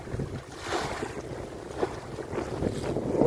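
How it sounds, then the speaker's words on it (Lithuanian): A boat crosses over waves at sea, with a steady rushing wash of water and wind buffeting the microphone, surging slightly as the hull meets each wave. "Štai bangas, per bangas skrieja laivas."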